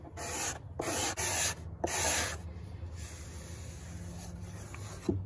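Sandpaper rubs back and forth across the wooden body of an archtop guitar under construction, a steady close scratching in several strokes with brief pauses, then softer continued sanding.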